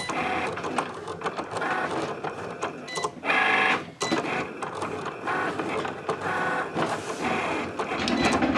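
A Cricut machine cuts glitter cardstock for a cake topper, giving a steady mechanical whirring with printer-like carriage movement and short bursts of faster motor sound, close and continuous throughout.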